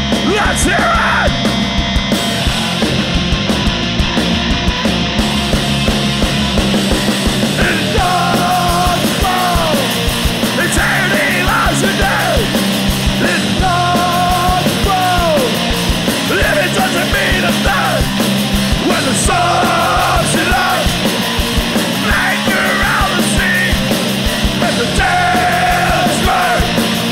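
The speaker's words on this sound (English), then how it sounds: "Everybody in this place get fucking loud." A packed concert crowd yells and roars at a hardcore punk show in Glasgow's Classic Grand, a loud continuous mass of shouting voices with scattered whoops throughout.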